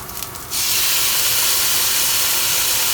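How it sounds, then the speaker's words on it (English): Soy sauce hits a hot pan of green beans in a boat kitchen and bursts into loud, steady steam hiss that starts abruptly after a moment and roars on close by. "the soy sauce creates some steam for the green bean"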